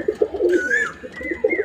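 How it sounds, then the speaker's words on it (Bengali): Pigeons coo in a rooftop loft with fullshira males among them, short-bodied and closed-tailed birds. Several close, repeated low coos come in uneven bursts, with a brief brighter call in the middle. "পায়রা দেখুন সব শর্ট সাইজের এবং লেজ বন্ধ।"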